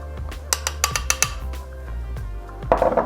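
A spoon mixes cornmeal and flour for deep dish pizza dough in a bowl, giving a series of close clinks and scrapes against the bowl, irregular and fairly loud, with a busier scraping cluster at the end.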